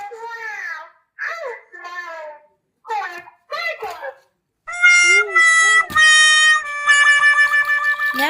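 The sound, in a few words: played cat meow sound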